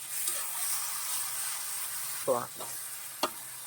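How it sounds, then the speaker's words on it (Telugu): Chicken seasoned with chilli powder, salt and ginger sizzles steadily in a hot pan, with a continuous frying hiss and a few short stirring scrapes near the end. "ఇప్పుడు చికెన్ వేసుకుందామండి."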